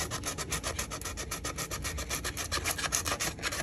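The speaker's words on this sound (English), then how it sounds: "sand this surface right here" Rapid back-and-forth strokes of sandpaper scuff a plastic window regulator surface to prepare it for a JB Weld bond, a quiet, steady rasping rhythm of about six strokes per second with no talking.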